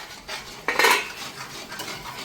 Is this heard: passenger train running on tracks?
no